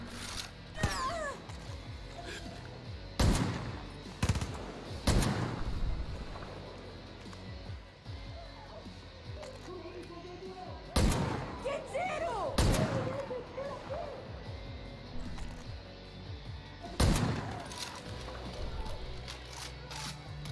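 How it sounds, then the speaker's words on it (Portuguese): Rifle fire in a bear hunting video game cracks out as several loud separate shots spaced seconds apart, with game ambience and a player talking between them. "não dá pra acertar com esse rifle!"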